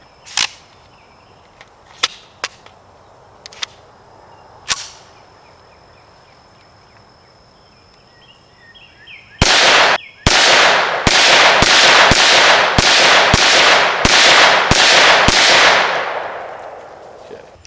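A Kel-Tec CMR-30 .22 Magnum carbine with a threaded barrel fires outdoors: a few scattered sharp cracks, then a rapid string of about ten loud, closely spaced shots.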